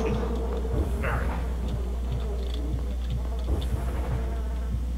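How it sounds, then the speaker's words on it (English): Steady insect buzzing from video game bees hums throughout, with faint clicks and brief noises over a constant low drone. "There's damn bees in here."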